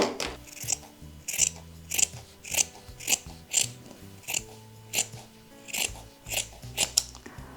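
Scissors snipping off excess fabric from a small sewn makeup and brush case, a regular run of about a dozen crisp, close cuts with no talking.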